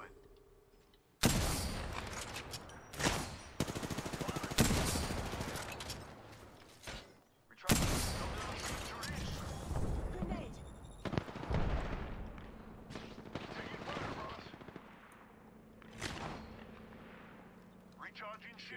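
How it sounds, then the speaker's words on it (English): Sniper and gunfire blasts in the battle royale video game Apex Legends, loud booming shots with long rumbling tails, several spaced bursts over a background of game noise, with a player talking in between. "Oh my God, I'm getting sniped at."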